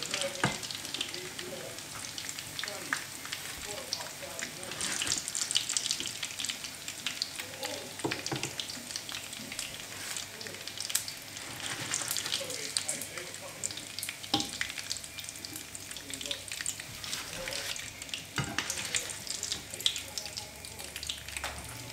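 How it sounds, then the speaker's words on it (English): Crab cakes fry in a pan of hot oil, giving a steady close sizzle and crackle that runs throughout, with occasional clinks and stirring sounds on top. "it's hot oil that we're kind of frying these"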